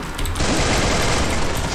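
Dense, continuous automatic gunfire in the video game Free Fire during a 4v4 match, a loud rattling barrage filling the whole moment with no pause.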